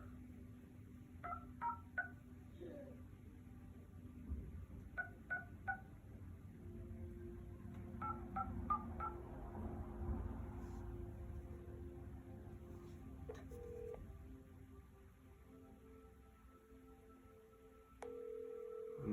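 An outgoing cold call to an off-market property owner: faint touch-tone dialing beeps come in short bursts, followed by a low, quiet ring tone through a phone speaker.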